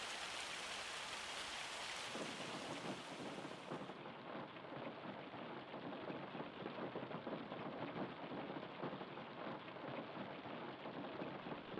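Hail pelts down in Farming Simulator 25, a dense, continuous hiss of pattering impacts that holds steady throughout, slightly brighter and fuller in the first few seconds before settling into a duller drumming roar.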